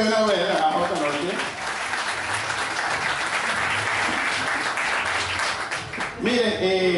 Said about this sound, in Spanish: aplausos para la gente que viene a ver la otra noche